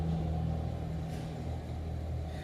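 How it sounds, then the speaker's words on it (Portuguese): A truck passing outside, a steady low rumble with a faint engine drone, muffled and continuous throughout, with no voices. "eu estou parando por causa do barulho do caminhão"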